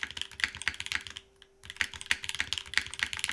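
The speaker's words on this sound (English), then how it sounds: "The milky yellow spacebar on this is hitting a level of deepness." Typing on a mechanical keyboard with a milky yellow switch spacebar, close, crisp clacks in quick bursts with a deeper spacebar thock, a brief pause mid-way, no voices.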